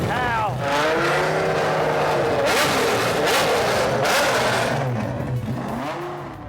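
The engine of a 75%-scale miniature Ferrari revs hard in race mode at a supercar show, with repeated rising and falling engine sweeps, loud and close, with some voices mixed in.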